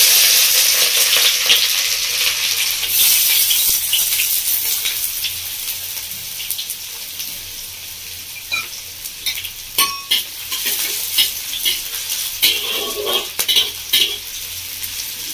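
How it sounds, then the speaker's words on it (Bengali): Chopped onions fry in a pan with a bright, loud sizzle that slowly settles. A spatula scrapes and taps against the metal pan in quick strokes, close up and without talk. "পেঁয়াজটা একটু ভেজে নেব"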